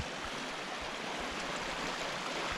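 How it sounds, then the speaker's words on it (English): A small stream runs over a Scottish hillside, giving a steady, close wash of water that stays even and unbroken throughout, with no voices. "It looks like a stream."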